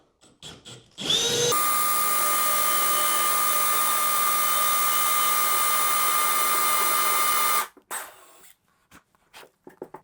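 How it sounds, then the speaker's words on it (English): A power drill fitted with a 1 1/4 inch hole saw cuts holes during a Minn Kota Terrova trolling motor install on a Bonafide PWR129 boat, with a loud, close, steady whine lasting several seconds before winding down. "so our 1 1/4 inch hole saw on the 2 inner holes. Start that."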